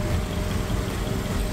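GAZ truck engine held at around 2500 rpm, a steady dense low rumble running without change, loud and close, with no talk over it.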